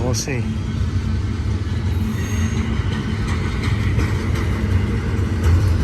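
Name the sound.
BNSF freight train stopping at Cajon summit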